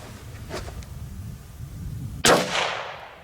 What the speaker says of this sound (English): I shot the same damn hole